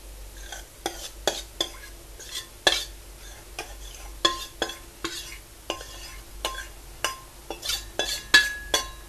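A spoon scrapes and clinks in a pot as roasted gram flour is stirred into sugar syrup for besan burfi, with irregular repeated strokes that are close and fairly loud.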